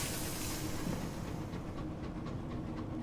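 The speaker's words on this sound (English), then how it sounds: "There is something really relaxing about train noises, isn't there?" A steam locomotive in the video game Sunless Skies rumbles steadily with a dense hissing, rolling wash and faint rhythmic clatter, loud and continuous with no voices.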